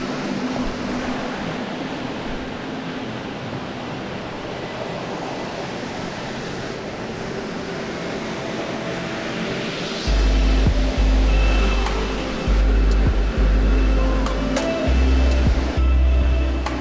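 Cascade de Sœurs waterfall rushing as a broad, steady roar close by, with heavy low thumps joining partway through.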